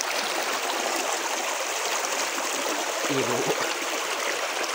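Flowing water rushes steadily and close by in a continuous hissing wash, with a brief spoken word partly masked beneath it.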